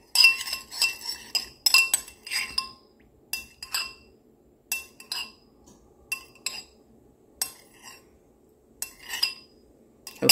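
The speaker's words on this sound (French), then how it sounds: "On fait un mélange là avec lui." Small glass vessel struck and clinked repeatedly as a homemade natural remedy is stirred, bright sharp taps in short irregular bursts with brief quiet gaps, close and alone.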